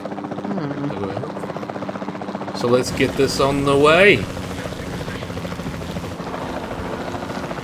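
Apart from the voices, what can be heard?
capture team helicopter flying in Jurassic World Evolution 2 video game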